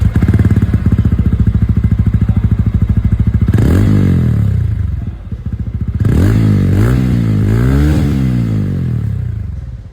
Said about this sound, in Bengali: এক্সস্ট সাউন্ডটা সেটাও আমি আপনাদেরকে এখানে একবার শুনিয়ে দিই।